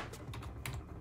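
Rapid typing on a full-size computer keyboard at a home desk: a quick cluster of soft, close keystroke clicks, fairly quiet, with no voices.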